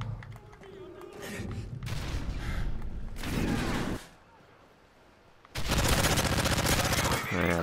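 Gunfire from Modern Warfare 3 in a Search and Destroy match comes as loud bursts of rapid shots in two main stretches with a quieter gap between.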